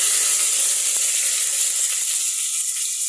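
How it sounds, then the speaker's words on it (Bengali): Bay leaves hit hot oil in a pan for a dried-fish dish, giving a steady, loud, close sizzle and hiss that runs unbroken throughout. "এখন আমি এখানে ছেড়ে দিচ্ছি তেজপাতা।"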